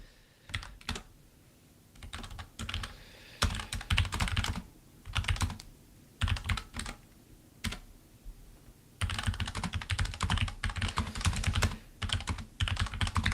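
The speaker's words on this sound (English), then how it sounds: "I can't multitask when I'm typing" Bursts of rapid clicking keystrokes on a computer keyboard, typed in short runs separated by brief pauses, then a longer continuous stretch, close and fairly quiet with no talking.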